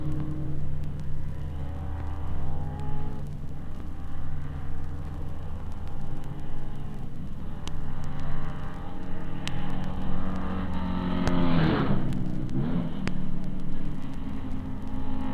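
Ferrari sports racing cars from the 1956 Sebring endurance race pass by, with a steady engine rumble building to a loud, close sweep near the end, all under a commentator's continuous talk.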